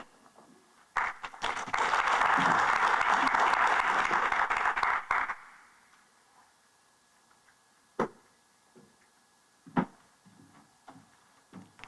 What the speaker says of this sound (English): please let us give a round of applause for Build Belize.